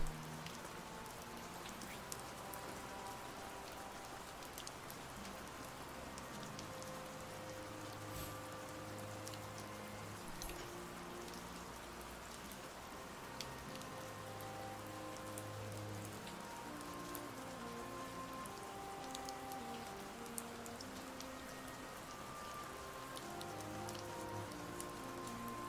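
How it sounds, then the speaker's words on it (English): Rain falling outside a window, an even, continuous patter and hiss lasting throughout with scattered faint drips and low background hum, no voices. "I think it's just raining outside your window."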